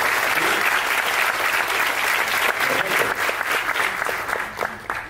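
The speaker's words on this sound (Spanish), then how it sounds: "Un fuertísimo aplauso," A live audience breaks into loud, sustained applause, dense clapping from many hands that holds steady for several seconds before starting to thin out at the end.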